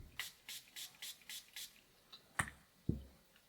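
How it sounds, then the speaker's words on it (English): A fine mist sprayer pumps about six short, even bursts onto an eyeshadow-loaded makeup brush, quiet and close, followed by a couple of soft taps and handling knocks. "I'm going to load up my brush with eyeshadow, and then I'm going to spray my brush."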